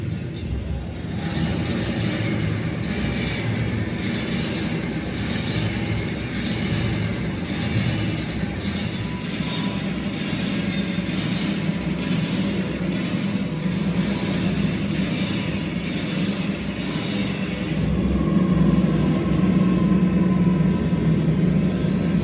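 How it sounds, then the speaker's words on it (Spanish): Steady rumbling of a slow train on the Lisbon to Madrid line, with rhythmic clatter and hiss, continuous and fairly loud throughout with no voices. "con los sonidos de trenes incluidos. Mira y escucha."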